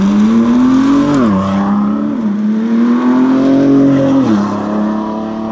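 A 2018 Ford GT with a twin-turbo EcoBoost V6 drives past close and loud, engine note rising as it accelerates, dipping sharply at a gear change, climbing again, then dropping once more near the end.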